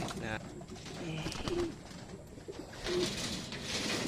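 Racing pigeons in winter training cooing outdoors as a few birds are readied for release, soft repeated coos over a steady background hiss with faint voices.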